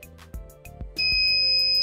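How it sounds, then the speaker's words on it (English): A tortilla toaster finishes with a few short electronic beeps, then a sustained tone, close by, with small clicks between. "So what happens when it's done, it beeps and then it turns."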